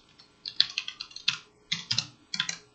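Computer keyboard typing code in short irregular bursts of crisp clicks with brief pauses between, close and alone without talk.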